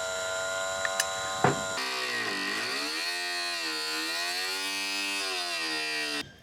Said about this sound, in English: I don't think this Dremel, the bit's just bending